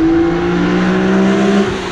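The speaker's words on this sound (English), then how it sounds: "That's not the quiet exhaust at all." A loud, deep BMW M Roadster engine drone holds steady at high revs, a throaty exhaust note heard up close from inside the car before it eases off.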